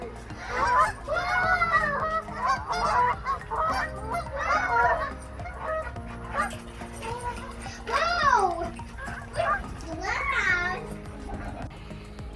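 Geese on a pond honk in repeated loud, nasal calls, several birds overlapping close by while children's voices chatter in the background.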